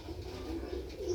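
A female racing pigeon coos once, a soft low throaty call heard close up and alone.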